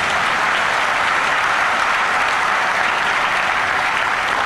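A seated audience of doctors at a gathering in Rajasthan claps loudly and steadily, a dense, unbroken roar of many hands with no pauses and no speech over it.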